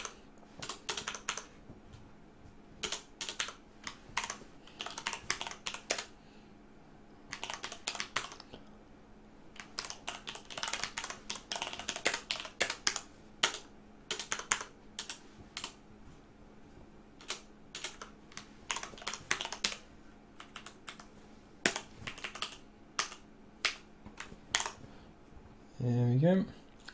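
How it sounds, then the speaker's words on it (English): Computer keyboard typing in irregular bursts of quick key clicks, close and fairly quiet, with pauses between runs and a brief voice near the end. "Then we can start typing some stuff in."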